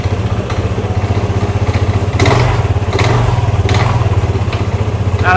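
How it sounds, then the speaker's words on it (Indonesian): A Vespa LX 150 iE scooter engine idling nearby with a steady, rapid, vibrating putter, holding an even rhythm throughout with a slight rise in revs midway. "memang rada getar banget kalau suaranya Vespa ini"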